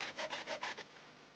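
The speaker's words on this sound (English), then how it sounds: "And then clean it up with a file." Hand file rasping the metal edge of a hole cut with a jigsaw, five or six quick close strokes in a steady rhythm, then stopping.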